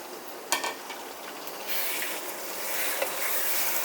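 Half a kilo of chicken mince browning with onions in a pan, opening with a sharp utensil clank, then the sizzle swells and stays steady and close with faint scraping stirs, no voices.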